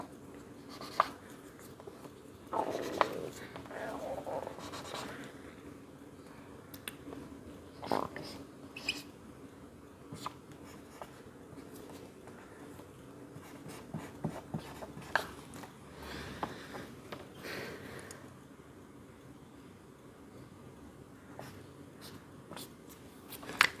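A pen sketching a DNA structure diagram, quiet scratchy strokes in short bursts and longer lines, close but faint, with soft background noise between strokes.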